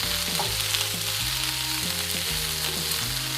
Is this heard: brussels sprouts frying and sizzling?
yes